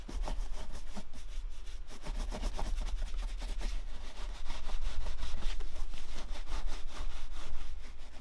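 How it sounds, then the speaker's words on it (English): A polished leather shoe is buffed with Saphir wax in quick, steady back-and-forth rubbing strokes that are close and continuous, growing slightly louder midway. "to speed things up, I'm going to go ahead and just start buffing it"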